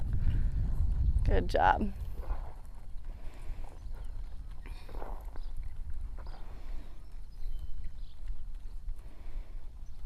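Horse hooves clip-clopping during a riding lesson, a steady walking or trotting rhythm heard faintly beneath an instructor's spoken coaching and some low background rumble.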